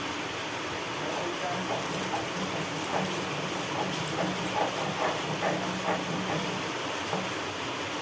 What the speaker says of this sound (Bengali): বাইরে অঝোরে বৃষ্টি চলছে